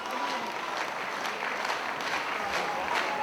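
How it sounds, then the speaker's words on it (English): A wrestling crowd at a Ring of Honor Glory By Honor 6 event applauds and cheers in a dense, steady roar of clapping. A commentator's voice is partly heard beneath it. "Crowd again urging Aries on and back to their feet."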